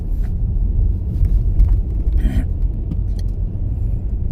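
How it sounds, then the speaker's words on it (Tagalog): A car stuck in deep snow, its engine revving with a loud low rumble that holds steady throughout, with no talk. "Yan saka mo ngayon paharurutin yung sasakyan mo."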